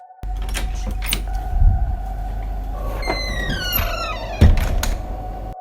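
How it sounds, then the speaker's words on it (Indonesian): An office room door at a university campus opens by itself at night as a horror sound effect: a low thud, then a rising creaking squeal and a second heavy thump over a dull rumbling background, with no voices. "pintu ruangan tiba-tiba terbuka sendiri"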